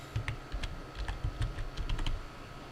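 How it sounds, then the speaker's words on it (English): Rapid keystrokes on a computer keyboard while entering a command to validate a game server for SCP: Secret Laboratory, close and crisp, with clusters of quick taps and brief pauses and no one speaking. "I'll go ahead and just type in validate"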